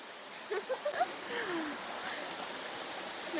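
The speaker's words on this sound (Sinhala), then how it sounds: "මේ ඔයේ වතුර ගලන සද්දය ඇහෙනකොට හිතට මාරම සැහැල්ලුවක් දැනෙන්නේ." A river stream flows with a soft, steady broadband rush, fairly faint and continuous, with a few brief chirp-like sounds early on.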